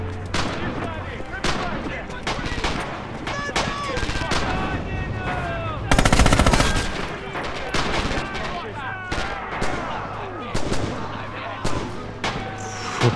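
Rapid rifle shots ring out in the Red Orchestra 2 video game as a player hip fires, with sharp cracks coming in quick irregular bursts. Heavy battle noise surrounds them, and players talk over the gunfire.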